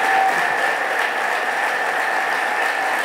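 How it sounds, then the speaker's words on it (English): Dense, steady applause from an audience at a regional economic development awards ceremony, loud and continuous throughout with no talk over it. "That's why there's all this applause, right?"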